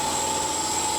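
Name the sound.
air compressor running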